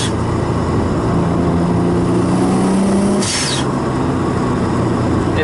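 A 240SX car with a turbocharged 1JZ engine accelerating in 4th gear, a loud continuous engine drone with rising tones, then a brief sharp hiss near the end, heard from inside the car.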